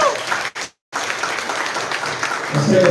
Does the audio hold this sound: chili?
no